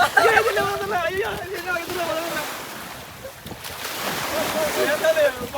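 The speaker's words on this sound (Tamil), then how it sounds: "இது கடல்" Sea waves at Pudhupattinam beach, a broad rushing wash rising and easing with gusty wind buffeting, while people talk excitedly close by over the surf.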